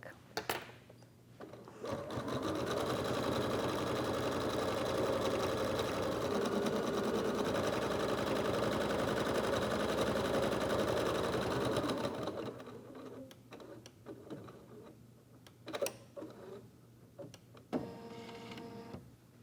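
An embroidery sewing machine stitches a tack-down pass on fabric held in the hoop, a steady loud mechanical whirr and rapid needle chatter running about ten seconds, then stopping, followed by a few clicks, handling noises and brief talk.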